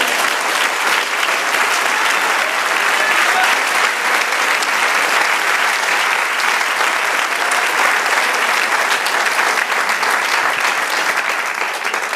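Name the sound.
church congregation applauding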